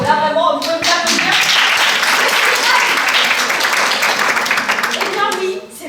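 Audience applause and clapping at a live stage show, opening with a voice and a few sharp claps, then swelling into a full, sustained round before fading out near the end.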